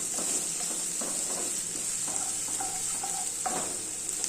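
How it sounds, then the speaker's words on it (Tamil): Sliced onions and ground tomato sauté in oil for an egg dish, a soft steady sizzle broken by a few scraping, tapping strokes of a spoon stirring the pan. "அதையும் இதில் சேர்த்து நம்ம வதக்கிக்கலாம்."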